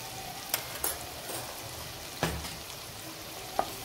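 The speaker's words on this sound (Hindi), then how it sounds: "इन सभी चीज़ों को कर लेंगे मिक्स और 2 मिनट के लिए मसालों को भून लेंगे" Radish bhujia with spices frying quietly in a pan, a soft steady sizzle broken by a few sharp scrapes of a spoon stirring, faint and close with no voices.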